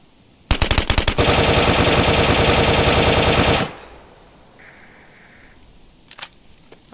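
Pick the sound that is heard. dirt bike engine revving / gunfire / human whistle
gunfire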